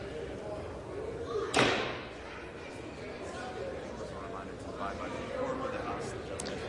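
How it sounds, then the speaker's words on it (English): A gavel in the chamber of the House, one sharp knock sounding far off and roomy against a murmur of distant voices and hall ambience. "there she is banging the gavel"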